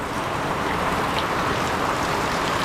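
Steady rain falling outdoors during the rainy season, a dense, even hiss with no distinct drops standing out, constant and fairly loud throughout.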